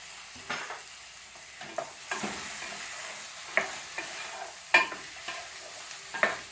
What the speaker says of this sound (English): So now I'm going to add more vegetable broth to it.